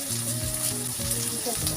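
Curry leaves frying in hot oil with green chillies for wedding-style Tamil vatha kuzhambu, giving a steady, close sizzle throughout the short stretch.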